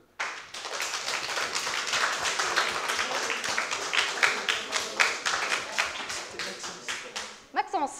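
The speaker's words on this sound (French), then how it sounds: "On applaudit Maxime." An audience at an eloquence contest claps steadily in sustained applause, individual claps distinct and rhythmic, tapering off at the end with a brief voice.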